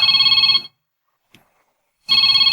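A cellphone ringing with a loud, warbling electronic tone that sounds in two bursts separated by more than a second of silence, with no voices.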